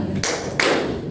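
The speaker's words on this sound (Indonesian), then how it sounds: "Tepuk 2." Two firm hand claps spaced about a third of a second apart during a classroom counting game, close and loud with no talking over them.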